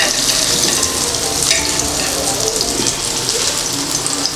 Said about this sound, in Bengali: এটাকে আস্তে করে ভাজবো।